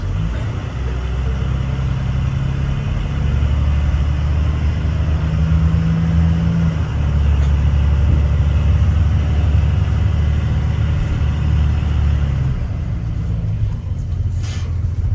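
A bus engine rumbles steadily at low pitch as it drives along near Crazy Horse, South Dakota, with road noise constant and close throughout.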